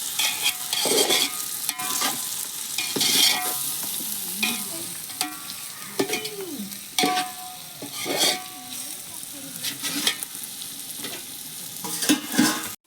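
Chicken biryani masala stirred in a hot pan, repeated scraping stir strokes over a continuous sizzle, close and fairly loud, with brief voice-like tones in between.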